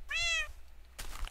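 A cat meows once in Minecraft, a short clear rising-falling cry up close, followed by a soft thunk; no one talks over it.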